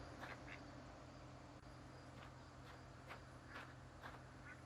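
Ducks quack in a video game, a run of short repeated calls spread over several seconds, moderately close, with no talk over them.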